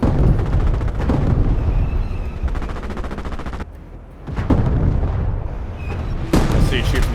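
Bazooka blasts and explosions in the WWII video game Call to Arms Panzer Elite, with loud crackling gunfire and heavy booms over continuous battle noise and a sharp burst near the end, while voices talk underneath.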